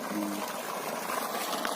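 Steady broadband rush of water gushing from the outlet pipe of a small-panel BLDC solar water pump on a farm, continuous and fairly loud with no breaks.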